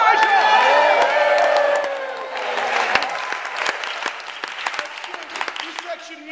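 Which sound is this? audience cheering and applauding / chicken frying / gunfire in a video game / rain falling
audience cheering and applauding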